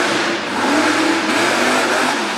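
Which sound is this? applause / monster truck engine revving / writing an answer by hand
monster truck engine revving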